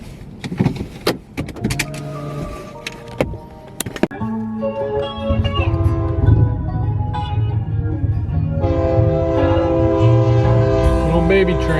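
A small train sounds its horn near a road at a red light, long sustained tonal blasts building and overlapping across the second half, loud and close amid street noise, after a stretch of clattering and knocks.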